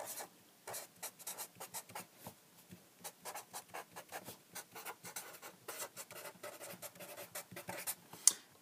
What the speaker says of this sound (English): So let me go ahead and just write that down right here.